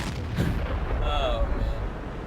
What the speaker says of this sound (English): We're just firing into the air.